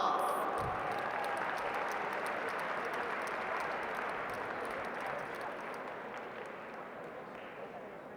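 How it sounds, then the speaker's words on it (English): Dinner audience applauding award honorees, a broad steady patter of clapping that slowly fades over about eight seconds, heard from the room at some distance. "Give them a round of applause."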